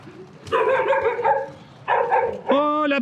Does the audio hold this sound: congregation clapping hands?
no